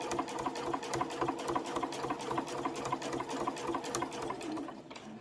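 A sewing machine runs a steady, rapid stitch at 3.4 stitch length, sewing a layer cake tray with a backstitch, a continuous close mechanical whir that stops just before the end.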